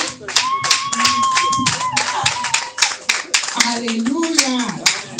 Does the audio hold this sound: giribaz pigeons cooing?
no